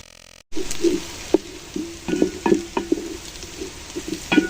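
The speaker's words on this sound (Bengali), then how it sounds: "সরষার তেল দিয়ে রান্না করলি পাতিলার মধ্যে কেমন জানি একটা বাবুল সৃষ্টি হয়" Khichuri cooking in mustard oil in a pot, a continuous sizzle and bubbling with recurring stirring scrapes and clinks, close and fairly loud after a short quiet start.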